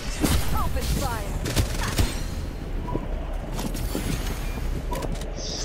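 Rapid gunfire crackles through a video game match, repeated sharp shots in bursts under a busy game soundscape, with a voice speaking over the action.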